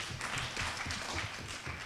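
An audience at a panel discussion on art and social change claps, brief, soft and somewhat distant applause with a quick patter of hand claps.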